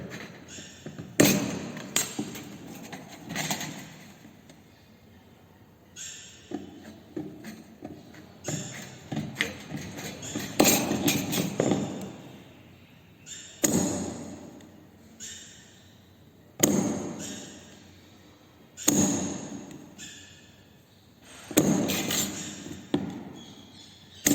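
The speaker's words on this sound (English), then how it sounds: "Now with straight snip he is cutting the two pieces which have to be joined by a riveted lap joint" Straight hand snips cut pieces of GI sheet metal for a riveted lap joint, each closing of the blades giving a sharp metallic crunch and snap, repeated at uneven intervals, close and fairly loud.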